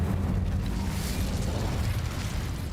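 An Incendio fire spell cast in Hogwarts Legacy, a steady, dense roaring whoosh of flame that stays loud and broad for the whole stretch with no pause.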